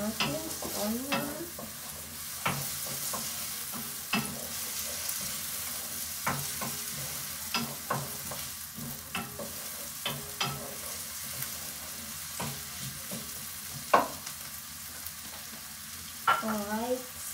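Onion frying in a pan for creamy mushroom pasta, a steady close sizzle with repeated scrapes and clicks of a utensil stirring, with faint talk now and then underneath.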